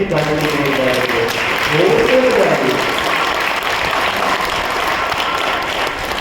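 A Brahma Kumaris audience claps together in a sustained, even wash of applause, with a voice briefly heard over it near the start.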